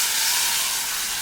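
Mustard seeds, dried red chillies and curry leaves sizzle in hot coconut oil for a Kerala mango kichadi, a loud, steady, close hiss that holds evenly throughout.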